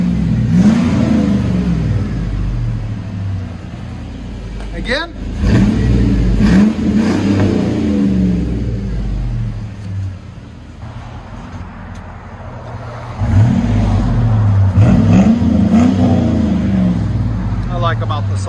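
A 1999-2006 GMC Sierra with a 5.3L V8 and Flowmaster Flow FX exhaust revs repeatedly, three loud swelling bursts over a steady idle rumble, close by, with someone talking briefly.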